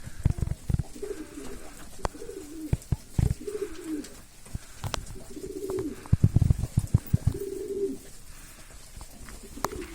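Breeding pigeons in raised nest boxes coo repeatedly in soft, rolling phrases, with several birds calling near and far amid light rustling and wing movement.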